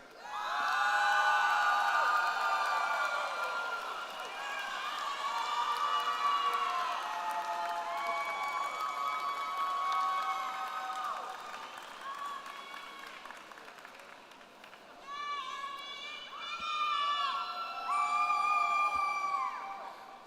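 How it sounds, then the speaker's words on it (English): Applause and cheering ring out across a university commencement hall, with voiced whoops and shouts rising and falling over continuous clapping for about twenty seconds. "Please give a round of applause to the reigning Miss San Antonio"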